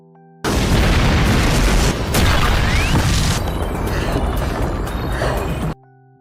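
A loud, sustained bomb blast rips through a city as an anime sound effect, a heavy booming roar with crackling debris that rolls on for about five seconds before cutting off.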